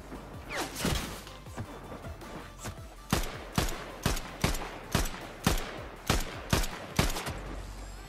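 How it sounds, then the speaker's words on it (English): Gunfire in Fortnite: a run of sharp, fairly close shots with short gaps between them, the later ones falling into an even, regular rhythm, with a faint background bed underneath. "who's shooting at me? Where are you shooting me for?"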